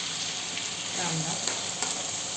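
Onion, cumin and ginger-garlic paste sauté in hot oil, giving a brief, steady hiss and sizzle with a couple of soft stirring taps, close by and without speech.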